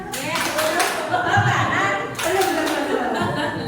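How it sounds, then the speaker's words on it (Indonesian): Applause rises during a question-and-answer session at a meeting, a short burst of clapping from a small group mixed with people talking over it. "Tepuk tangan."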